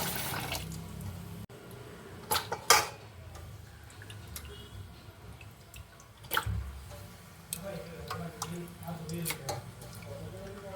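Raw liver being washed in water produces quiet, intermittent splashes, drips and squishy handling sounds at close range, with faint talk in the background.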